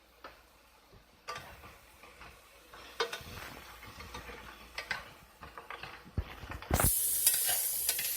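Mushrooms sizzle in a pan with a little soy sauce while being stirred, starting quiet with scattered clicks and scrapes and swelling into a loud continuous sizzle near the end.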